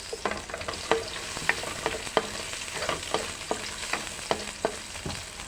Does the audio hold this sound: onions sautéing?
yes